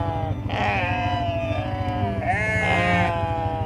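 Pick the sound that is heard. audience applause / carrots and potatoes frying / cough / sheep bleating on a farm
sheep bleating on a farm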